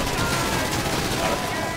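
Dense, rapid GTA 5 gunfire rattles without pause during a Doomsday Heist mission, loud and close, in one brief continuous burst.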